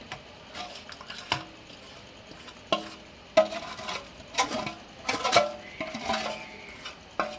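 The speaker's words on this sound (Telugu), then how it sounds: "దీన్ని కూడా బాగా మిక్స్ చేసుకోవాలన్నమాట." Jaggery is stirred into a powder mixture with a spoon in a metal bowl, making close, irregular scraping and clinking strokes that come one after another.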